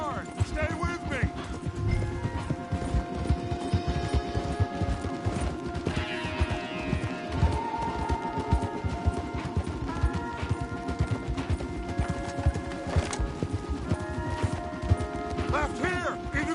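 In Red Dead Redemption 2, several horses gallop hard through the countryside with steady, rapid hoofbeats beneath game music and orchestral tones, while characters talk over the ride.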